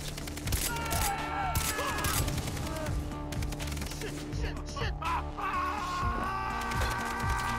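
Rapid bursts of gunfire in the video game Far Cry 3, dense and continuous through the moment, with a voice talking over the shooting.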